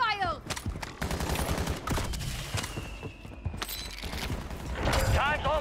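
Video game gunfire rattles in quick bursts and single cracks with mechanical clicks, moderately loud amid game effects and speech.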